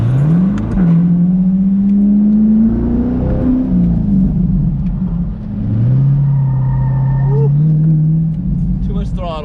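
A C8 Corvette engine revs under heavy throttle, its pitch climbing, falling and climbing again in two sustained loud surges, with a voice talking over it.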